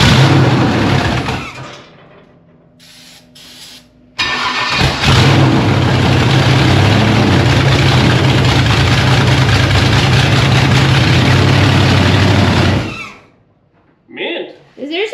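A 1957 Chevy fitted with an LS engine fires up on its first start, a loud, steady engine roar that holds for about eight seconds before cutting off, with quieter cranking and sounds before and after.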